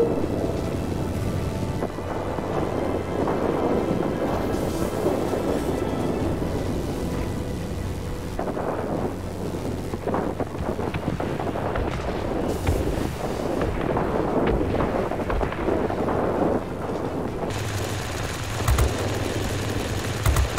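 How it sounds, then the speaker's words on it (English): Thunderstorm weather in the World of Warplanes flight game, heard as a steady roar of wind and rushing air with rumbling low swells, continuous and fairly loud throughout with no voices. "Be advised, a line of thunderstorms is approaching."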